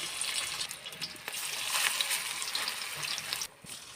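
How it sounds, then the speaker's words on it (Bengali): Banana stem fritters sizzle in hot oil in a heated wok, a dense, continuous bubbling hiss that dips briefly near the end. "এবার গরম তেলের মধ্যে থোড়ের যে বড়াগুলো এক এক করে ছেড়ে দিবে।"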